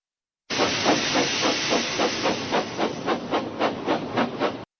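A steam engine hisses loudly and continuously for several seconds, the hiss pulsing in rapid regular chuffs as it runs, with no voices.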